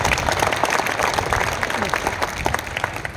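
Audience applause at a live Hindi comedy and poetry show, steady dense clapping from a crowd that fills the whole stretch at an even, fairly loud level, with a voice faintly present underneath.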